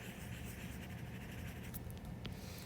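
A pen drawing on paper, a continuous soft scratching for under three seconds, close and quiet, with no talking.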